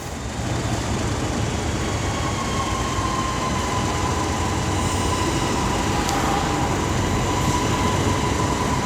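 Train passing at Coventry on the West Coast Main Line, a loud continuous rumble of wagons rolling close by with a faint high wheel squeal, no voices over it.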